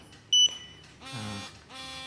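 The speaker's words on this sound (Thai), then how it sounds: "สัญญาณเตือนที่รีโมทนะครับ" One short, sharp electronic beep from a motorcycle alarm remote, a Yamaha Tricity two-way alarm, sounds near the start, followed by soft handling and rustling noises.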